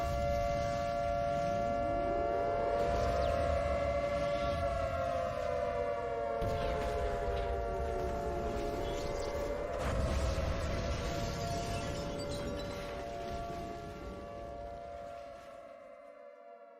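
Air raid sirens wail in long rising and falling tones over Helsinki, Finland, during a bombing raid, several overlapping, loud and sustained over a low rumble.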